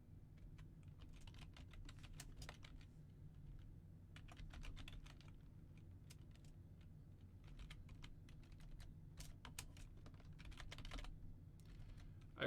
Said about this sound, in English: I really need to switch out my keyboard.